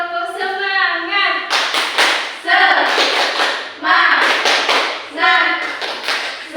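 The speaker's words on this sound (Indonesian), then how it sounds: "Tepuk semangat." A primary-school class does a rhythmic clapping chant together, with bursts of sharp group clapping alternating with children's voices chanting in unison, lively and close.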